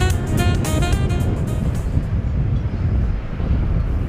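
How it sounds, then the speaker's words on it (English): A plane at DFW Airport at night gives off a steady, loud broadband roar with some wind rumble. It holds constant for the whole span, with no voices. "back to the planes here"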